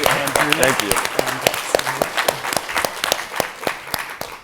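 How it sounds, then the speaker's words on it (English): A summit audience breaks into applause, dense clapping with a voice speaking over it near the start, then steady claps continuing to the end. "give a round of applause"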